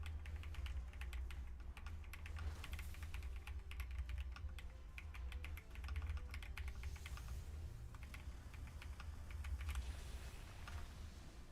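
Rapid typing on a loud computer keyboard, a steady stream of fast clicking keystrokes heard close up over a low constant hum, with no talking.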